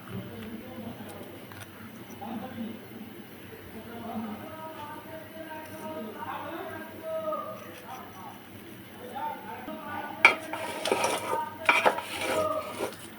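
Beef trotter nihari stirred into ginger-garlic paste and spices with a wooden stick, soft scraping and clattering of pot and utensil, rising to louder clanks near the end, with a voice talking over it.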